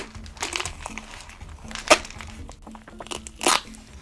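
Packing tape pulled and wrapped around a cheap foam pad on a homemade iron bone training post, giving crinkly crackles and tearing bursts in short irregular spurts, with a sharp crack near the middle.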